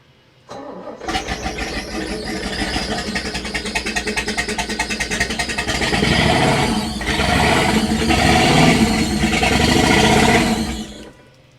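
An engine aboard an abandoned yacht cranks and catches, then runs and revs up loudly, rough and steady, growing heavier and fuller toward the end before cutting off, close by and with no talking.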